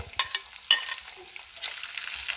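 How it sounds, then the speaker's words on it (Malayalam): Ginger, garlic, green chillies and shallots sauté in a pan, a steady hiss of frying with a couple of sharp spoon taps and scrapes near the start, close and moderately loud. "നന്നായിട്ട് വഴറ്റിയെടുക്കാം."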